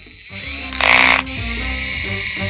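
A Parkside cordless drill whirs briefly as its chuck tightens on a small, thin drill bit, a short loud mechanical burst over a steady background hum.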